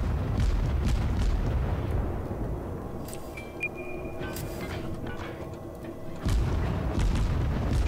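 Naval artillery salvos and shell impacts in the World of Warships video game, heavy low rumbling booms rolling continuously with sharper bursts over a dense battle din, loud and without talk.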